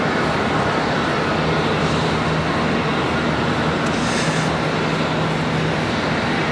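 An AirCal airliner at Charlotte Douglas airport, heard as a steady, broad engine roar that holds at constant loudness throughout, with no talk.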